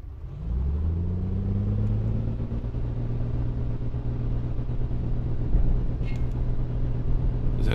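Simulated Piper Comanche 250 piston engine at full power on the takeoff roll in the A2A flight sim, a loud steady droning rumble with strong low harmonics that holds constant throughout, with no talk.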